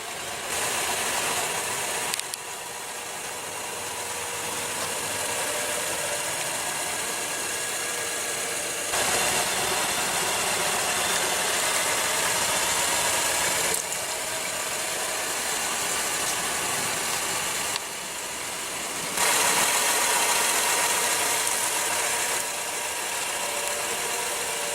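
A 2015 Acura's 3.5 liter V6 runs steadily at idle under an open hood, a continuous broad hum with a few abrupt level shifts, heard alone without talk.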